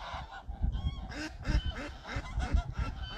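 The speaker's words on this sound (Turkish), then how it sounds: "Ördekler" Waterfowl on a lake calling with a rapid series of loud, close, nasal honks and quacks that overlap in an irregular rhythm, with no voices.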